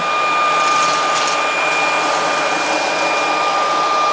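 A Laresar V11 cordless vacuum cleaner running at maximum power, a loud, steady, high-pitched whine with a constant airy roar, close up and uninterrupted throughout.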